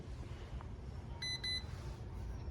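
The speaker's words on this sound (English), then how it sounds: "Then turn on your power switch, it'll beep at you." Beeps from a drone's remote control as its power switch is turned on: a short cluster of two high, bright electronic tones sitting over low background rumble.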